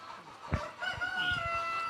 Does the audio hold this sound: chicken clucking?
yes